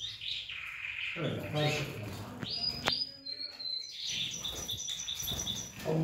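Mixed caged birds, including Azores canaries and a Turkish goldfinch, chirping and calling in bright scattered bursts, with a long clear whistled note midway, under close conversational talk.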